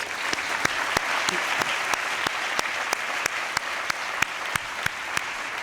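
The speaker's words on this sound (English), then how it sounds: "Please help me give them a round of applause" Commencement ceremony audience for a GEMBA graduating class applauds the program management team, steady dense clapping with a few sharper claps cutting through at regular intervals.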